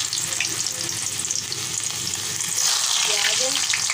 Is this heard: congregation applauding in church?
no